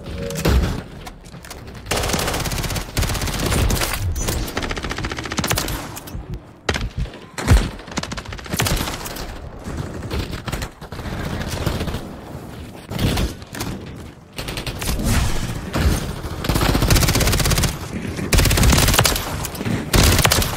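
Repeated loud gunfire bursts and impacts in Call of Duty Warzone on Rebirth Island, clustered volleys continuing for about twenty seconds with brief lulls between exchanges.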